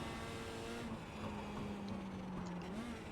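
A mini stock race car engine in iRacing drones steadily at mid revs, loud and close, with a slight dip and rise in pitch as it is driven through the lap.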